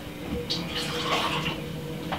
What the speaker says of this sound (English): We're gonna put a little bit of water.